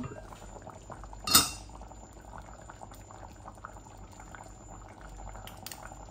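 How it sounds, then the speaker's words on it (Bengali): Tomato puree added to a simmering pot of chop bhuna, with soft bubbling throughout, one sharp clink of a spoon or utensil early on, and faint scraping near the end. "একটু টমেটো পিউরিও দিচ্ছি"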